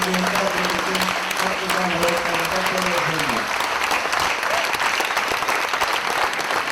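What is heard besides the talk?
audience applause for a guest speaker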